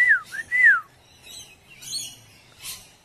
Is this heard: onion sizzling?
no